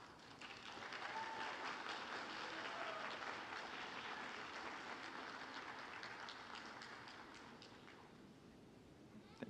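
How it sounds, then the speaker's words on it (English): Graduates at a nursing pinning ceremony applauding their supporters, a broad wash of clapping from a crowd that swells and then gradually fades, heard at a distance in a large room. "Turn around and give your supporters a round of applause."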